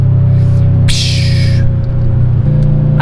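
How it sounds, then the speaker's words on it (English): A 2013 Subaru WRX hatchback with a turbocharged 265-horsepower engine lets off the throttle, releasing a brief airy turbo whoosh over a steady low engine drone heard from inside the car. "if you let off the gas, you hear that little whoosh."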